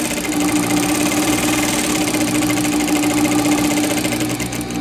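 A sewing machine stitches steadily along the edge of a seam while sewing a mitered corner, its motor running in one loud, continuous, close-up drone with no pauses and no talking.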